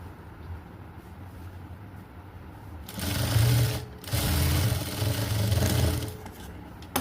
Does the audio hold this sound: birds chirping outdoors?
no